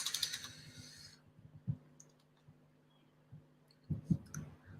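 Sparse clicks and taps on a computer keyboard that is not working well, close and quiet in a still room, arriving in scattered bursts with long gaps between them.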